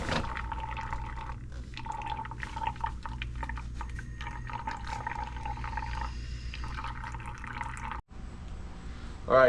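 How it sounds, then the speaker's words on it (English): Oil dripping and trickling from a Sea-Doo FishPro Trophy personal watercraft during an oil change, a steady liquid pour with irregular drips over a low mechanical hum, close by, cutting off briefly near the end. "Let build the pressure, and now it's dripping."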